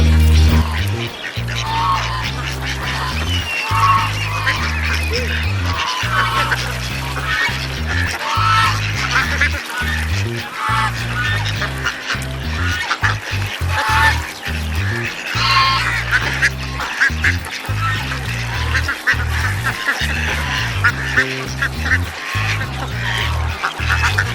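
A large flock of ducks on a park lake at Safari Park, Karachi, Pakistan, quacks and honks nonstop, loud and close, over a steady low hum of outdoor background noise.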